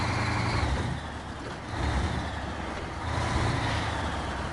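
A small truck in the SnowRunner game drives with a steady low engine rumble and rolling noise that swells and eases in waves, with no talk over it.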